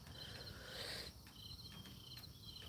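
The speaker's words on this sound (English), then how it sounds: "the crickets were chirping," Crickets chirp softly on a peaceful fall morning outdoors, a faint, steady pulsing trill with light rain dripping off metal nearby.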